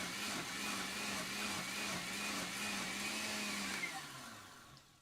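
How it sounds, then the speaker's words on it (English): Blender pulping scraps of paper in water, a loud steady motor whir holding for about four seconds before winding down, with no talking. "And then I'll just give it a little blending."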